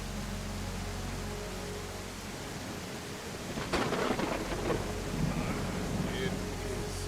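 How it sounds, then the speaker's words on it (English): Thunder crashes in from a steady wash of rain during a storm in the video game I Am Jesus Christ, a loud rumbling burst arriving midway over continuous hiss and low wind. "It's too early for a storm"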